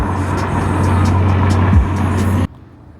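A Lexus IS300 fitted with a new aftermarket exhaust drives along with a steady, loud, low engine drone and road rumble, a short pitch sweep near the end, before the sound cuts off abruptly.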